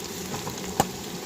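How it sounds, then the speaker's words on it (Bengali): Sliced onion frying with whole spices, bay leaf and green chilli in hot oil, a soft continuous sizzle broken by one sharp tap. "এখানে দেখতে পাচ্ছ পেঁয়াজটা ভাজা হচ্ছে,"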